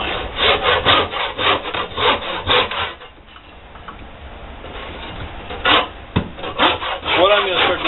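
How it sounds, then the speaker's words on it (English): Hand saw cutting through a small piece of walnut in a woodworking shop, loud rhythmic back-and-forth strokes with a brief pause midway before cutting resumes. "what I have here is a little bit of walnut. We're going to cut it up."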